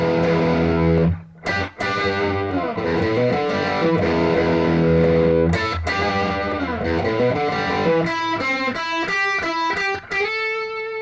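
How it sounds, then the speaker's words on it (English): Two distorted electric guitars play a short harmonized lick, with sustained notes ending in a quick ascending run, loud and up close. "it's a harmonized lick. There's 2 guitar parts there"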